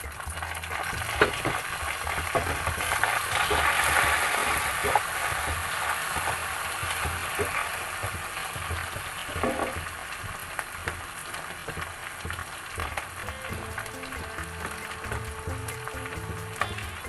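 Chopped tomatoes and slit green chilies sizzle steadily in hot oil for Punjabi rajma, a close, even frying hiss with occasional pops and stirring scrapes, no voices.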